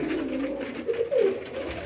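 Soft, low pigeon cooing, a few murmuring rolls close by over a faint background hum.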